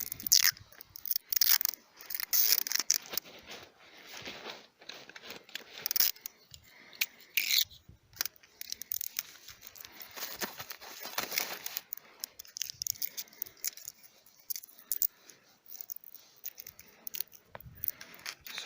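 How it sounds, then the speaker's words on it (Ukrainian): Close, crackly sticky tape being pulled and wound tightly around a tree graft in repeated short tearing and rustling bursts, no voices. "Скотч цей можна гарно натягнути і тверденько примотати."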